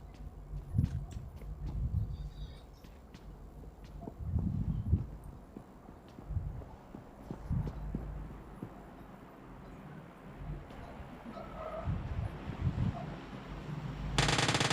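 Gunfire in PUBG Mobile Lite gameplay: bursts of rapid automatic shots and single cracks recur across the clip, mid-distance, mixed with footsteps and game ambience.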